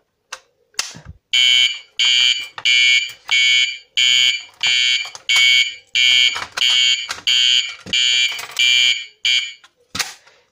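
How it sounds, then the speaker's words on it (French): A loud American-tone fire alarm siren sounds in repeated rhythmic bursts, a harsh high-pitched electronic tone pulsing about once per second, with a few short knocks at the start and end. "le son de la sirène là, c'est un son américain, le son de la sirène là-haut"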